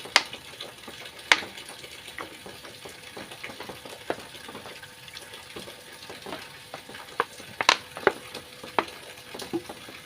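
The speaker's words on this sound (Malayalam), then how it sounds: "നമുക്ക് ഈ ഇഞ്ചി ഒന്ന് ആദ്യം ഒന്ന് വറുത്തെടുക്കട്ടെ" Ginger fries in coconut oil in a pan, sizzling steadily with occasional sharp crackles and pops; no voices.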